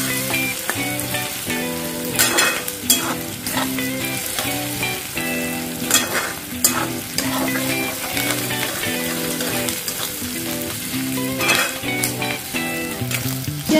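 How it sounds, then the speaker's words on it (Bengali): Onions with a pinch of sugar fry lightly in a pan for a chicken liver and gizzard kosha, giving a steady close sizzle with occasional stirring bursts under a tonal musical backing. "দিয়ে হালকা ফ্রাই করে নিতে হবে এটা"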